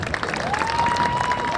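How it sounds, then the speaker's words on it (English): Audience applause at a high school athletic hall of fame induction ceremony, a steady wash of clapping from a seated indoor crowd, sustained and fairly loud throughout. "one more big round of applause for Dick Hills, Anthony Catalano, Andy Houck"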